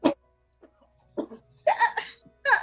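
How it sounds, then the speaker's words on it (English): Dry, close coughs in a quiet room: a sharp single cough, a pause, then a cluster of hoarse coughs and throat-clearing bursts in uneven rhythm. "Don't you come up in here again with all of that coughing and stuff."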